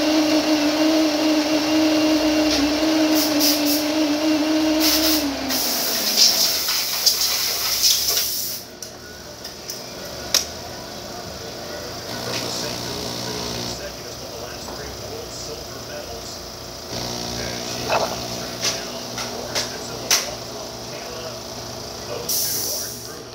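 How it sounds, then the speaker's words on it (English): A Saeco Exprelia espresso machine pulling a shot: a loud pump hum and hissing steam run for several seconds, then drop to a quieter gurgle and low mechanical noise as the machine keeps working. "let's go ahead and pull a shot"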